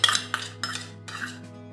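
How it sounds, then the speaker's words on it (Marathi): Jaggery powder tipped into a large vessel while making traditional sweet wheat-flour diyas, giving a few close, bright scraping and clinking bursts of a spoon against metal over a steady low hum, with no talking. "मी इथे एक मोठे भांडे घेतले आहे त्यात आता गुळ पावडर टाकून घेते"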